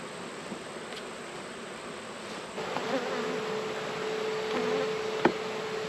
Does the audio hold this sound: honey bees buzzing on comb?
yes